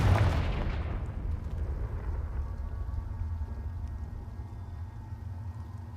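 A Confringo blasting spell explodes in Hogwarts Legacy: a sharp, loud burst that decays into a long, rumbling roar over several seconds, with no voices.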